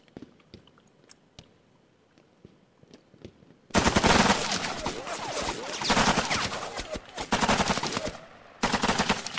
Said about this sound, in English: Why is he shooting at the sky?